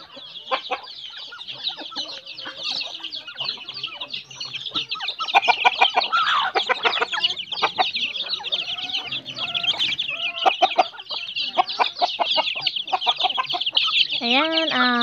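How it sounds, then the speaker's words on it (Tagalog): Chickens on a rural poultry farm cluck steadily through a morning feeding. Many birds are close and busy, giving a dense, continuous chorus of clucks with a few louder squawks. "dumidiretso agad ako sa poultry para mapakain na yung mga manok."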